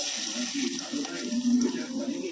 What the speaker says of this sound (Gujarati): એ નાખી અને થોડીક વાર તેલમાં સોતળી લેવાનું છે